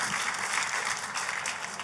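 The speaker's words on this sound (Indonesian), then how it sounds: "Tepuk tangannya boleh yang paling meriah buat Tuhan kita." A church congregation claps together in a lively, sustained burst of applause, a thick, even roar of hands filling the hall at a strong level.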